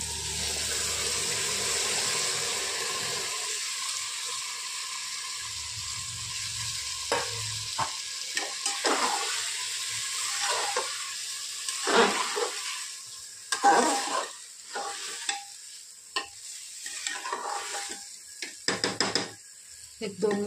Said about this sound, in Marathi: एक 2 मिनिटाला परतून घेणार आहोत।